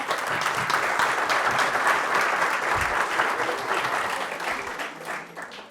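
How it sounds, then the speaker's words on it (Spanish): A lecture hall audience gives a strong round of applause to the organizers at the close of a physiology session, with sustained, even clapping from many people that tapers slightly at the end. "voy a pedir un fuerte aplauso para quienes organizaron la jornada"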